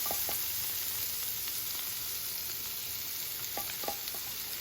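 Tempering for homemade lemon pickle sizzles in hot oil as a steady close crackle with faint stirring clicks, no voices over it.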